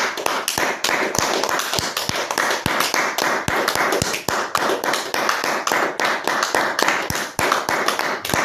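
A church congregation claps hands in acclamation, a dense, loud, continuous wash of many hands with sharp individual claps standing out, sustained without pause throughout.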